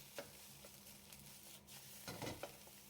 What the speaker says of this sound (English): Turn the heat up to high and stir fry until all the rice grains are separated.